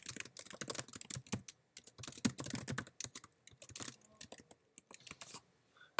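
Card number and address being typed on a MacBook Air keyboard at a shopping checkout, rapid irregular key clicks in quick bursts with short pauses, close and fairly quiet, no voices.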